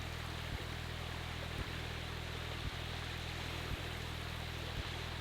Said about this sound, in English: A natural spring that comes right out of the ground right here.